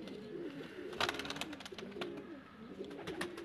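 Rampuri Teddy pigeons coo in low, rolling phrases, repeated throaty calls close up, mixed with sharp clicks and flutters of movement around them.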